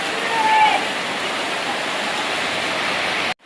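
Heavy rain sends floodwater rushing through a residential housing area in Padang, a loud, steady roar of churning water that holds constant before cutting off abruptly at the end.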